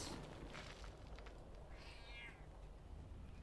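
A house cat meows once, a fairly clear rising and falling cry heard nearby over a steady background hum, with no talk.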